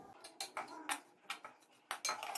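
A metal spoon scraping and clinking against a pan on the stove while stirring pieces of bread as they roast, giving a series of sharp, close taps and scrapes in an irregular rhythm.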